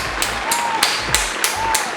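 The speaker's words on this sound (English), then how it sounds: "Give him a round of applause." Slow, evenly spaced hand claps, about six sharp beats in two seconds, close and fairly loud over a soft background hum.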